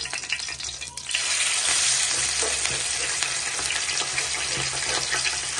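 Fish frying in hot oil in a village kitchen gives off a loud, continuous sizzle that surges sharply after a quieter start and stays close and steady throughout.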